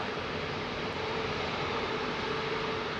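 A One Air Boeing 747 freighter with Rolls-Royce engines departs Heathrow runway 27R, heard as a steady, broad jet roar at moderate distance that holds evenly throughout.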